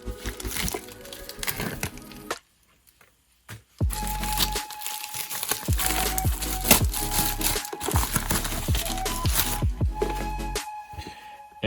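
A 4K Blu-ray steelbook package is opened close to the microphone. Plastic wrap crinkles and crackles, with sharp snaps and tearing sounds in bursts. A short quiet gap falls in the middle, then more crinkling and handling thuds follow.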